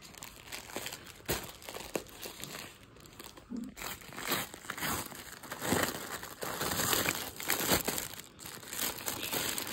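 Plastic courier packaging from a Myntra parcel being opened, crinkling and crunching steadily near the microphone with occasional sharp tears, alone without talk.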